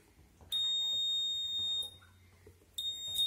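An IR sensor security alarm on a cash box sounds when the box is opened: a loud, steady, high-pitched electronic buzzer tone holds for about a second and a half, stops briefly, then starts again.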